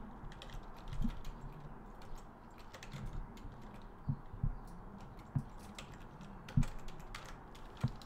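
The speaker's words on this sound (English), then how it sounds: "I type wrong." Computer keyboard typing during a Minecraft session, a steady stream of soft clicks with a few sharper, louder keystrokes standing out against a low background hum, close to the mic and with no voices.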